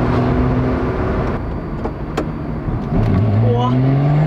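Inside a Lotus Exige sports car accelerating hard, the engine drone rising steadily in pitch as revs climb, loud and close, with people talking over it.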